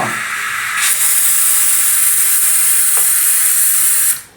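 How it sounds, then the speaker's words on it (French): Steam hisses loudly from a pressure cooker that is holding boiling water, building quickly after a brief start and then holding steady for several seconds before it cuts off abruptly. "On a ici une cocotte minute dans laquelle on a mis de l'eau à l'état liquide."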